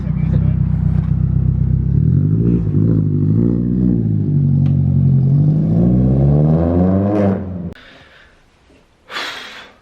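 A modified 360bhp Mk4 Volkswagen Golf pulling away, a loud close engine note rising through revs in a long climb, then cutting off abruptly before a short burst of noise at the end; a voice is briefly heard.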